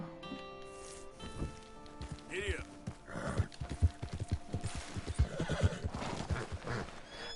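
A horse in the video game Red Dead Redemption 2 whinnies, snorts and clip-clops close by, hooves thudding in an uneven rhythm while the neighs ring out between them.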